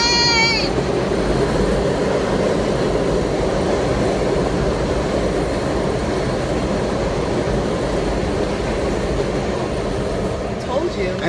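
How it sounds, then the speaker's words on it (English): A train rumbles past at Coney Island with a continuous loud roar and a brief high squeal at the start, steady and close for the whole stretch, with voices faintly underneath. "The train!"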